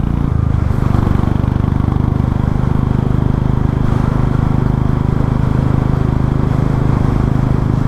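A Royal Enfield Meteor 350 with the catalytic converter removed, its straight exhaust idling near and steady with a rapid, even low pulse that holds unchanged throughout.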